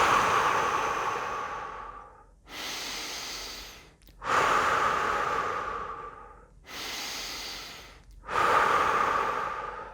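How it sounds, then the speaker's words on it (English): Three slow, deep breaths taken close to the mic during a relaxation exercise, each a long airy inhale and exhale in a steady rhythm, with brief silent pauses between them and no talking. "we just start to take some deep breaths"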